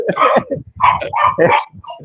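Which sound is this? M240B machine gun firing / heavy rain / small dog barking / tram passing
small dog barking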